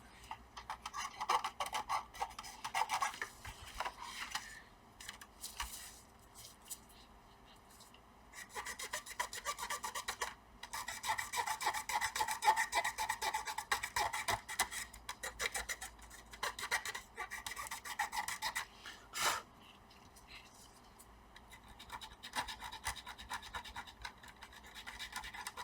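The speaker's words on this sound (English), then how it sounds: "Let me try and clean the memory connectors" Corroded laptop RAM memory connectors are rubbed clean, close up, with irregular scratchy rasping strokes in bursts and short pauses.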